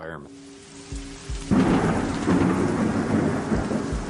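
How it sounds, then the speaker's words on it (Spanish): A thunderstorm advancing near an airport: a faint tone fades out, then a deep roll of thunder breaks in and heavy rain hisses loudly and steadily beneath the continuing rumble. "parece que tenemos la segunda parte de esta tormenta que está avanzando"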